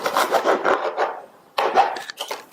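A knife cuts the roots off a bunch of stem amaranth greens in two close, rasping strokes separated by a brief lull. The sawing through the fibrous stems is loud and near, with no talking.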